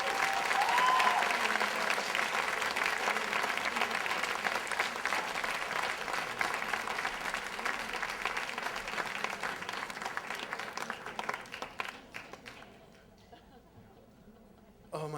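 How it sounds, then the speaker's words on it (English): An audience at a storytelling slam gives sustained applause that slowly thins out, with scattered cheers and chatter mixed in, and fades to a few last claps near the end. "Another round of applause for Katherine."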